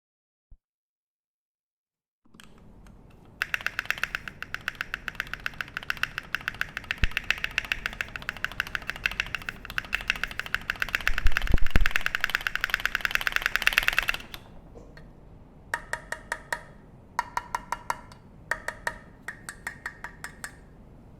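A Keychron Q3 mechanical keyboard's spacebar is hammered repeatedly in rapid bursts, a dense clacky rattle lasting about eleven seconds, then a few shorter runs of quick thocks separated by brief pauses, close and loud with no talking.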